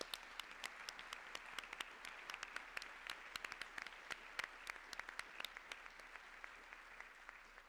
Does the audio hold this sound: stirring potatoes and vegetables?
no